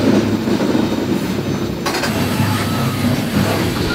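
A freight train runs steadily along the rails without slowing. Its loud, continuous rumble and wheel noise fill the whole stretch, close by, with no voices.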